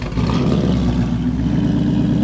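A Ford Mustang Mach 1 with a Corsa cat-back exhaust and active valves cranks and idles as a steady, loud, rumbling engine drone close by, with no speech over it.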